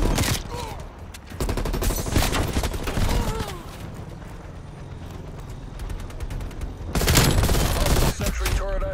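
Sentry turret in the video game Call of Duty Black Ops Cold War, fierce bursts of rapid automatic fire at the start and near the end with quieter battle noise in between.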